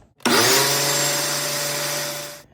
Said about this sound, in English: So whipping cream in a Ninja blender